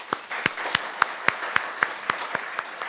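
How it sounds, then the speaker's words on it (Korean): A church congregation claps in slow, evenly spaced unison, about a dozen sharp, distinct claps ringing through the room over a low wash of scattered clapping. "크게 큰 박수로 축하하고 위로하고 격려하겠습니다"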